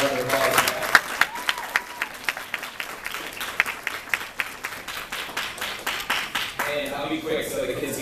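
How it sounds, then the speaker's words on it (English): Round of applause from a gathered audience of supporters, crisp individual claps forming a steady patter that thins toward the end, with a voice talking over the last seconds. "So give yourself a round of applause."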